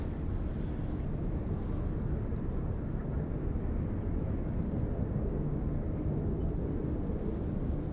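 An Alaska Airlines Boeing 737 MAX 9 jet flying in from Seattle to Anchorage airport, heard as a continuous broadband engine roar at moderate distance, steady for the full stretch.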